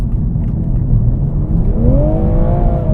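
Toyota A90 Supra running a stage 1 tune accelerates on the road, a steady low engine rumble with a rising whine climbing in pitch over the last second and a half, heard from inside the car with no talking.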